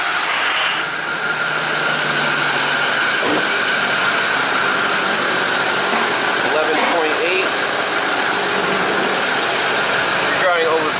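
A Ford PowerStroke diesel engine turns over and settles into a steady idle after the glow plugs warm, its loud continuous rumble running throughout with a short pause near the start of the clip.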